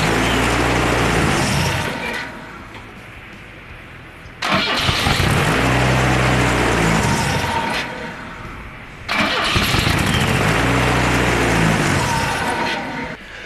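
Turbocharged Volvo 760 with a faulty mass airflow meter, its engine running roughly and surging in three loud cycles, each revving up then sagging and stumbling before catching again, close by with no talk.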